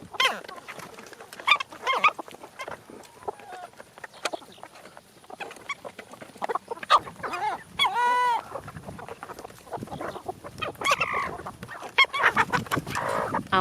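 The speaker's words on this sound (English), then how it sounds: "I like that rooster a lot." A rooster and a flock of chickens cluck and squawk busily throughout on a farm, with one clear crow in the middle and scattered calls near and far.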